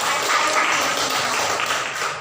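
Classroom applause rises as students clap together, a dense steady patter filling the room at moderate loudness for a couple of seconds, with no talk over it.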